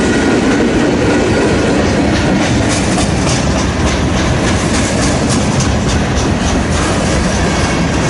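A freight train of rail box cars, including an old KCS box car, rolls past close by with a loud, steady rumble and rhythmic clickety-clack of wheels over rail joints throughout.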